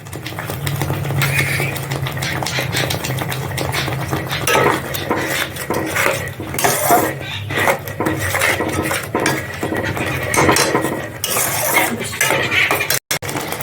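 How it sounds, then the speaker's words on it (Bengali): Spinach being stirred and fried with spices in a pan, repeated loud scraping and clinking of a utensil against the metal over a soft sizzle, close and continuous with no voices. "এখন আমি আরো পালং শাকটাকে 2 মিনিট মশলার সাথে কষিয়ে নেব।"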